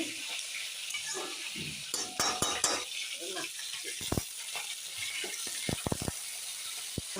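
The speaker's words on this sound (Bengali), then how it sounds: "নেড়ে দিচ্ছি" Food stirred in a cooking pot on the stove, soft frying sizzle under scattered scraping clicks and knocks of a utensil against the pot, close and fairly quiet.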